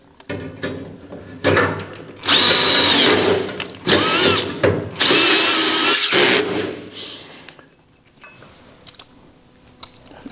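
A power drill fitted with a Phillips bit on an extension drives screws into threaded inserts during assembly of a Recteq Deck Boss 800, with several loud whirring bursts separated by short pauses and light handling clatter.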